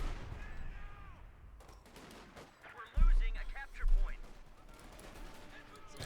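Heavy M2 .50 caliber machine gun bursts in Company of Heroes 2, two loud strikes over a battlefield bed of distant fire while a voice talks over it.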